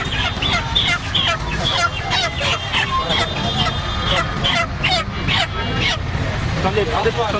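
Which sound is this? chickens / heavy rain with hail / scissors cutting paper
chickens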